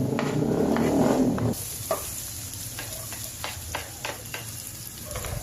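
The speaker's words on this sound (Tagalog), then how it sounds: "Tapos gisa na." A loud sizzle from a hot pan in a Filipino chicken adobo-style dish cuts off abruptly, then quieter frying continues with a few sharp utensil clinks and scrapes as ingredients are stirred and sautéed, no talk.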